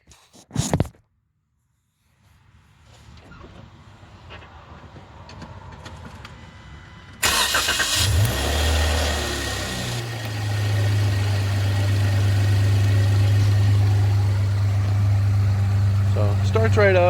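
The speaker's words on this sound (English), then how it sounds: "So starts right up. Has a little tiny rattle at first." A 2015 Jeep Wrangler starts with a short crank, then settles into a loud, deep idle through its exhaust. A small rattle comes through at first. Handling noises and movement are heard before the start.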